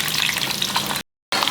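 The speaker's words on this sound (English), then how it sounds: "and stir it, fry it till it becomes slightly brown" Finely chopped onion frying over high heat with cumin and mustard seeds in a pan for a brinjal dish, a loud dense close sizzle with a brief silent gap before it resumes.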